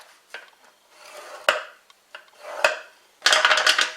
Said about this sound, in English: we're just going to score our main card piece at the 5 1/2 inch mark